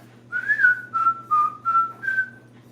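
A person whistles a short tune of five sustained notes with slight pitch slides, loud and close, over a low steady hum.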